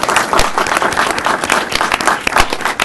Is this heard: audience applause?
yes